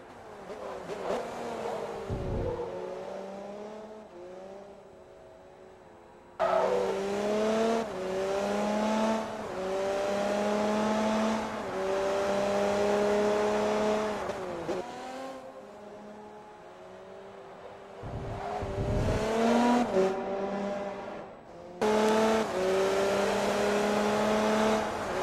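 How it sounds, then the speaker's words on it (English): Simulated racing cars, a Super Aguri chasing a Ferrari in a video game, roar past with rising and falling engine whines and gear shifts across several passes, loud and continuous, with faint background voices. "Super Aguri giving chase to the Ferrari, counting down the laps to the end of the race now."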